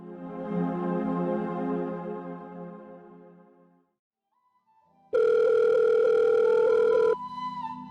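A telephone rings with a loud, sustained electronic tone lasting about two seconds, preceded by a fading musical passage and a short pause, and followed by softer tones.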